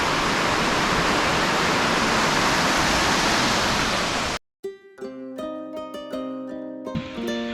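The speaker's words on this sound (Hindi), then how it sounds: "यहाँ पे एक छोटी सी बहती हुई झरना भी देख रहे हैं आप" A small waterfall stream flows down a hillside in the Almora hills, making a steady, loud rush of water that cuts off abruptly partway through, giving way to faint musical tones.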